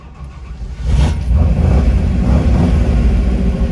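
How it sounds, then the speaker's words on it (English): A 1948 Ford Woody Wagon with a 427 side-oiler V8 cranks over while hot and catches, settling into a loud, steady, rumbling run close by. "That is a hot start there."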